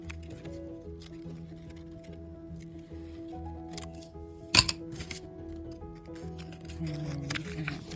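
Scissors snipping through folded paper to cut out a butterfly shape, soft scattered snips and rustles near the microphone with one sharp louder cut midway and faint background hum.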